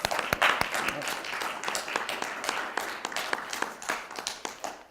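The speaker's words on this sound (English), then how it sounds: "Can we please give her a round of applause?" An audience gives a round of applause for author Dr. Joan Bryant at the close of an interview event; scattered, fairly sparse clapping with distinct individual claps, moderately quiet and fading in places.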